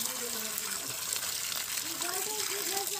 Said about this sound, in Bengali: এখন আমি খোসা ছাড়ানো পেঁয়াজগুলোকে একটু ভালোভাবে নেড়ে চেড়ে ধুয়ে নেব।